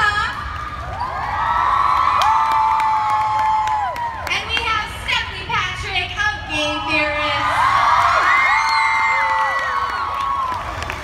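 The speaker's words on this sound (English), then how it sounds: "There was a lot of screaming, and I hope it was for good, right?" A large convention audience at VidCon 2017 cheers, whoops and screams loudly as panelists, among them Markiplier, walk out on stage, with high children's shrieks rising and falling throughout, sustained noise and a few scattered claps.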